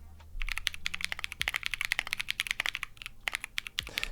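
Rapid clacky keystrokes on a custom Matrix 6XV 3.0 mechanical keyboard, a dense uneven patter of crisp clicks close to the mic, with a short pause near the end.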